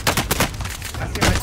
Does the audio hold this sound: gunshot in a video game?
yes